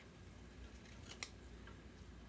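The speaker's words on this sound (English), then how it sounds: "I'm just cutting this with my scissors." Scissors cut through a birthday card, with a few faint snips and one crisper, sharper cut standing out against a steady background hiss, close and quiet, with no talking.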